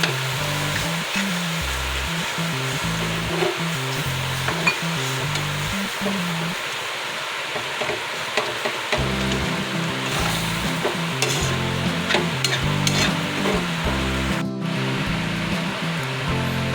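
Roasted besan sits in a pan with milk being stirred into it, giving a long, steady fry-sizzle with repeated scraping and stirring strokes and occasional utensil knocks, loud and close throughout.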